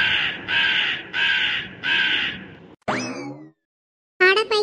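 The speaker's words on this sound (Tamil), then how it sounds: "அட பைத்தியம் பிடிச்ச காக்கா" A cartoon crow in a Thoothukudi-slang village-life cartoon caws four times in a loud, harsh, evenly spaced run, then gives a springy rising boing-like sweep and a final squawk, all close and clear with no talk.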